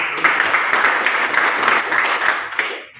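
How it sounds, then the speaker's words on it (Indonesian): Students at a high school dissemination session give a short round of applause, a steady burst of clapping from a room full of people that fades out over the last half second. "Baik, kita beri tepuk tangan."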